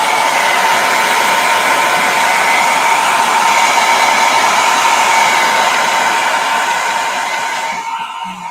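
A hair dryer blows steadily on a mixed media art journal page, a loud, constant whooshing hum that tapers off and cuts out at the end.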